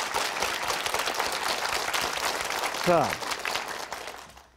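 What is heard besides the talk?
audience applause at a health lecture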